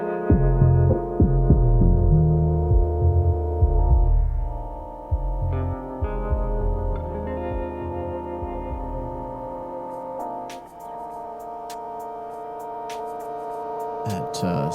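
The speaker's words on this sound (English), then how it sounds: "Synthy sound right there, that's from the latest little machine I got. It's called the MicroFreak by Arturia." Sustained synthesizer tones from an Arturia MicroFreak, layered harmonic drones with shifting pitches and pulsing low notes, loud at first then softening, with bright clicky accents near the end.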